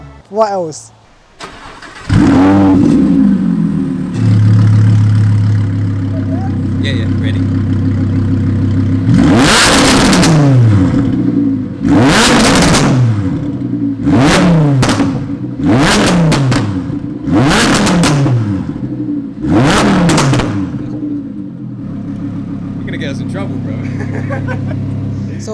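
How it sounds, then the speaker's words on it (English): A car fitted with a Quicksilver exhaust starts up and then gives a series of sharp, loud revs, about half a dozen bursts spaced a couple of seconds apart over a rumbling idle, with people talking briefly between them. "So that was the sound of the exhaust"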